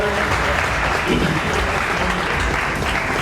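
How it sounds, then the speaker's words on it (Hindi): Loud, dense applause from a large audience greets a Member of Parliament arriving on stage at a chamber of industries event in Saharanpur, a steady roar of clapping for a few seconds without words. "जोरदार तालियां।"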